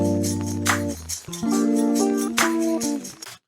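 Lo-fi drum beat with a rim shot layered on every other snare, heard alongside a steady mellow keys or bass backing, looping clearly and upfront with no talking.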